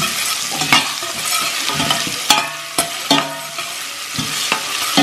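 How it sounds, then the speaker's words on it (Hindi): Garlic and ginger fry in a hot pan, giving a steady close sizzle broken by sharp scrapes and taps of a spoon stirring every second or so, with no voices. "अच्छे से भूनते हैं।"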